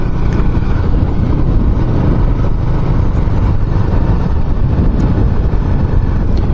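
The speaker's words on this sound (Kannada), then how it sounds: "ಇವತ್ತು ಗಾಳಿ ಭಾಳ ಇದೆ." Strong wind buffets the microphone of a rider on a motorcycle out on the road, a loud, steady, broadband roar that continues unbroken throughout with no voice heard.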